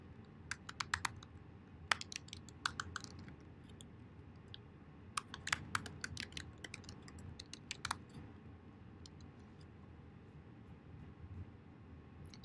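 Typing on a computer keyboard while logging in to a website: irregular bursts of sharp key clicks, fairly close, separated by quiet pauses over a faint background hiss, with no talk.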